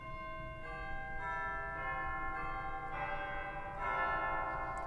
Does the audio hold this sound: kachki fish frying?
no